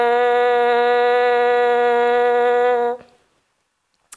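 A French horn mouthpiece buzzed by the lips alone, held as one steady, loud, bright pitch for about three seconds before stopping abruptly, followed by near silence.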